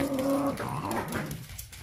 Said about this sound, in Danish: det er sådan nogle dejlige hunde